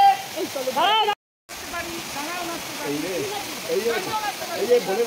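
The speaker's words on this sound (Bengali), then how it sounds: "এটাই হলো ধারাগিরি ফলস।" The Dharagiri waterfall near Ghatshila roars steadily in the monsoon season, a dense continuous rush of falling water heard close by under loud talking voices.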